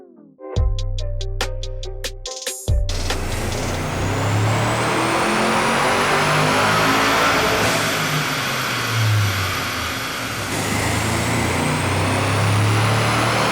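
An APR Stage 1 tuned car engine on a hot dyno, heard after a few sharp clicks and knocks, then rising into a loud, sustained high-rpm drone that holds steady with slight pitch sweeps for over ten seconds.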